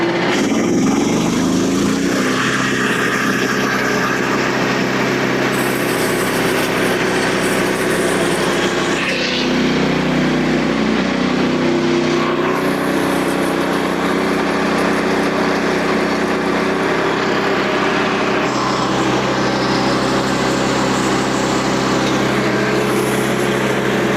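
Frontier sawmill engine throttled up and cutting a log into slabs, a loud steady engine roar with sustained sawing that rises and shifts in pitch as the blade works through the wood, no talk.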